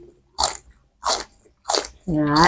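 Crunchy celery is bitten and chewed alongside a spicy Thai shellfish salad, three loud close crisp crunches in a steady rhythm, followed by a brief voiced murmur.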